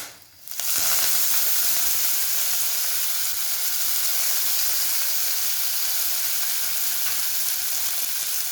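Asafoetida, curry leaves and coriander hit hot oil for a tomato chutney and burst into a sharp sizzle that quickly settles into a steady, close, fairly loud frying hiss lasting several seconds.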